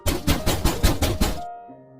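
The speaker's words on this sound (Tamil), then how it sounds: "வாசல் கதவை யாரோ தட்டுற சத்தம் கேட்டுச்சு" Six or seven rapid, heavy knocks on a door in a steady burst, loud and booming, then a low hum lingers as they stop.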